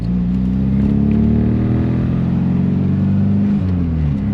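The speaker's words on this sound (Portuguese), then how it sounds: "vamos ver se dá pra gente escutar o escapamento que eu troquei." A Passat's engine revs up and settles back, its deep exhaust note from a newly replaced exhaust rising and falling close by, with no talking.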